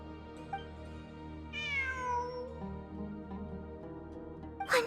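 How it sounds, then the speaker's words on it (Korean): A cat meows in the video game Genshin Impact: a single clear, rising-and-falling meow at mid-clip, heard over a steady background game music bed, followed by a brief brighter sound near the end. "환청이 아니야. 진짜 고양이야."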